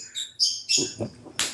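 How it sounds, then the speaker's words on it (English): Small caged pet birds give a quick series of close, loud chirps and tweets, several short calls in a row with a final sharp squeak. "sorry for my birds because I have small birds over here."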